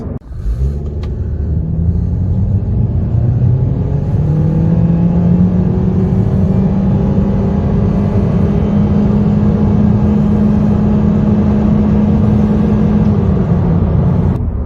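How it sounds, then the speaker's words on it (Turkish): Honda Civic 1.6 Eco Elegance accelerating hard from a standstill toward 180 km/h, with engine drone rising through the gears and then holding a loud steady roar with road rumble, heard from inside the car with no talk. "E, sıfırdan 180 km hıza da bu şekilde hızlanıyor."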